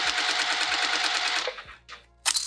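A sewing machine stitches a quilted pouch with a rapid, steady mechanical chatter that stops abruptly, followed by a short pause, a brief shuffle of fabric and the machine starting up again.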